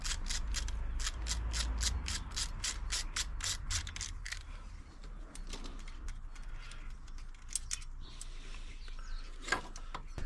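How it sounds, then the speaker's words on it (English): A ratchet turns out the stator bolts on a Yamaha TY80 trials bike under restoration, giving a fast run of crisp, close clicks for the first few seconds, then sparser quieter clicking and shuffling. "Just going to take the two bolts out of the stator that hold it in."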